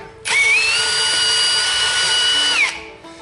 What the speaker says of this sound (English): So just use the drill bit as such. I'm just going to run it in and out quickly.